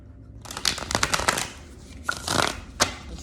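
Tarot cards being riffled and shuffled close by, in a few quick crackling bursts with short pauses between them.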